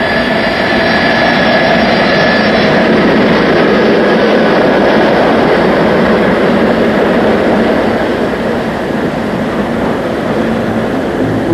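A Boeing 747's jet engines roar loudly and continuously through a high-speed taxi test in 1969, a steady, dense whine and rush that stays near and slowly shifts in tone.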